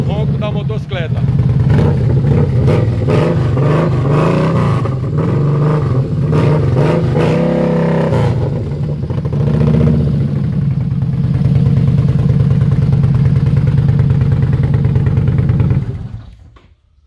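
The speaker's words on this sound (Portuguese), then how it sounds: "Olha agora o ronco da motocicleta." A Midnight Star bobber motorcycle engine idles loudly nearby at night and revs up several times, roaring and settling, before cutting off abruptly at the end.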